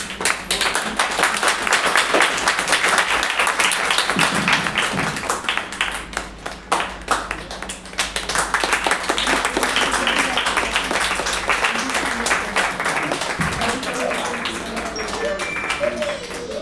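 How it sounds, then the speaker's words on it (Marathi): Sustained applause from an audience at an honour ceremony, dense clapping running steadily throughout with brief dips, loud and close, with a voice speaking over it at times. "टाळ्या वाजत राहिल्या पाहिजे."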